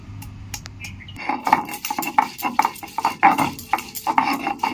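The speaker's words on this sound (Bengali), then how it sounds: "আদাটা আমি বেটে নিচ্ছি" Ginger being ground into paste, rhythmic close scraping and knocking strokes that start after a brief pause and repeat about twice a second, fairly loud with no talking.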